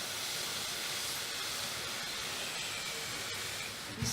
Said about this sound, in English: You see that smoke, the steam.